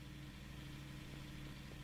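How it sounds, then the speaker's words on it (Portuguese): A steady, low car engine hum in the video game Jalopy drones without change, a close, even idling rumble with no other sounds. "Olha o motor, olha o barulho que o motor tá fazendo,"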